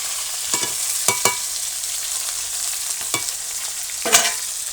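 Pieces of katla fish fry in hot oil in a village kitchen, giving a loud, steady, close sizzle broken by several sharp spatters and stirring scrapes.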